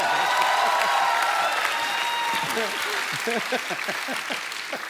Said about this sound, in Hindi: एक बार तालियां बनती हैं दोबारा